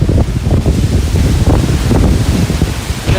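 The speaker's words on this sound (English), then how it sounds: "you can hear these gusts as they're coming through the city, hitting us." Typhoon wind gusts sweep through a Philippine coastal town, a loud, continuous roaring rush with surging, buffeting peaks that batter the microphone throughout, no voices.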